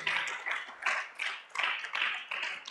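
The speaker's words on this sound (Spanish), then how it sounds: "Démosle otro aplauso al Señor, pues, hermano." Congregation applause during a church worship service, a few seconds of steady clapping in rhythmic bursts, fairly loud and close, with no talk over it.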